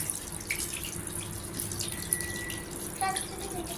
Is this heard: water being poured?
yes